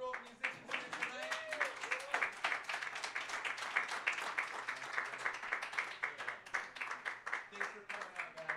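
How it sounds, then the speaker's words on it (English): Audience applause and cheering for musicians at an evening open mic night, a steady wash of clapping lasting throughout, with voices and whoops mixed into the crowd noise. "Another round of applause for all the musicians here tonight."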